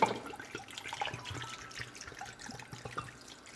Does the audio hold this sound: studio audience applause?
no